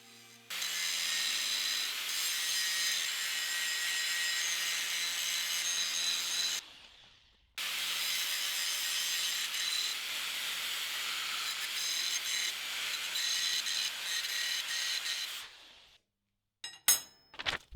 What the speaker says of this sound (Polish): Tutaj też trafia tarcza szlifierska przed spawaniem.